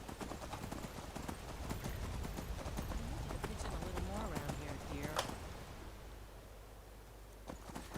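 Horse hooves clip-clop steadily in the Skyrim video game, a continuous near trotting rhythm throughout, with a voice speaking briefly over it and a faint whinny-like tone midway.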